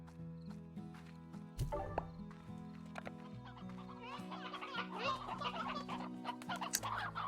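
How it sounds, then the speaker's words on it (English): Chickens clucking on a farm in the video game Slime Rancher, a steady patter of clucks over a continuous layered game soundtrack, with occasional louder thumps and calls. "the chickens, they can live off just the bugs that are crawling around"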